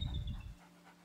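A dog in the video game A Plague Tale: Innocence pants in quick, soft, breathy bursts at close range for about half a second, then the sound fades into quiet.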